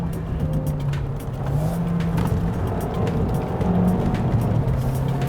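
A car on Continental UC7 tyres climbs a wet, bumpy road up Genting Highlands, its engine droning steadily with shifting pitch and a constant hiss of water spray from the tyres, close and loud without talk.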